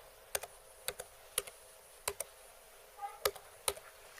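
A twelve-digit Aadhaar number goes in on a computer keyboard as sparse, sharp key clicks, some doubled and spaced unevenly, close and crisp over quiet room hiss.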